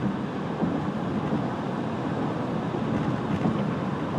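A 2008 Ford F250 Lariat Super Duty pickup with a V8 cruises at about highway speed, heard from inside the cab as a steady low rumble of engine and road noise with no voices.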